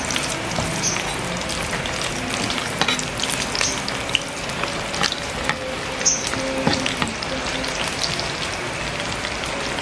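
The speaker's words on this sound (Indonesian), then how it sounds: "sekarang goreng apa, Pak? Ikan asin. Ikan asin sepat" Salted sepat fish sizzles in hot oil in a pan, a steady dense crackle and spatter with scattered sharper pops and occasional stirring clinks, close and fairly loud without talk.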